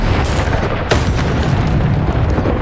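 Explosive Bombarda spell blasts in the Hogwarts Legacy video game, a dense, loud roar of booms and crackling bursts with a sharp hit near one second, sustained throughout without talk.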